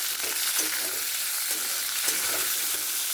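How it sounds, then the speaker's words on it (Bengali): Chopped capsicum and half-fried onion sizzle in a pan as they are stirred, a steady close hiss with soft rhythmic scraping strokes. "এবার ক্যাপসিকাম কুচিটা একটু নেড়ে নেব"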